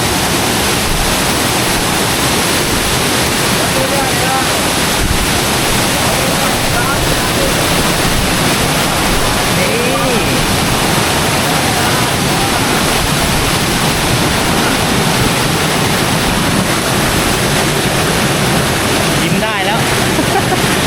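A loud, steady roar of Krok E-Dok waterfall in Thailand fills the whole clip, dense and continuous without a break.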